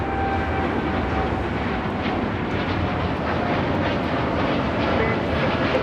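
A United airliner, a 787-9 Dreamliner bound for Denver, takes off from runway 25 right at LAX, a loud sustained engine roar rumbling steadily throughout.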